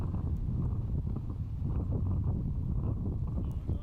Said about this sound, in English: You can just see how much the wind is a factor here. Really has picked up this afternoon.